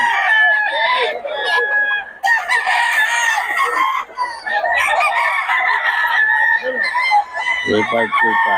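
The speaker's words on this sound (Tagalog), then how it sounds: "Solid ang mga manok ng Boss Tony." Roosters belonging to a gamefowl breeder crow and cluck loudly and continuously, several birds overlapping, with people talking faintly underneath.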